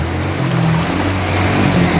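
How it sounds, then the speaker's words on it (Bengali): Loud, dense rush of heavy rain, a continuous roar with a low rumbling undertone. "প্রচুর বৃষ্টি নামতেছে"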